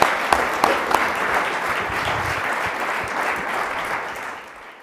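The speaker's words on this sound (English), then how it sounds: "Can you please give me a round of applause?" Audience at an internet governance panel discussion breaks into sustained applause, opening with a few distinct sharp claps, then a dense even wash that fades out at the close.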